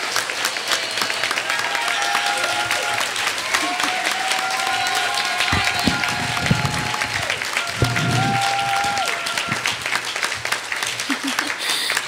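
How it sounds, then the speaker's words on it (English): Audience applause at an Indigenous women's climate event, sustained clapping filling the room for a young speaker, with a voice briefly talking over it partway through. "Please, a great round of applause"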